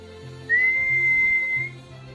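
A person gives a single sustained, steady whistle as a dog training signal, lasting a little over a second against a low background rumble.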